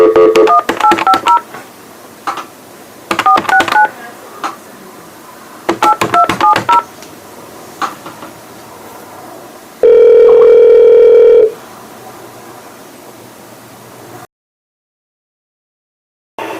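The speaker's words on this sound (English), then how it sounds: "let's call the U.S. Marshals office" A phone call to a U.S. Marshals office: loud bursts of touch-tone dialing beeps in three groups, then a long steady ringback or line tone, followed by near silence.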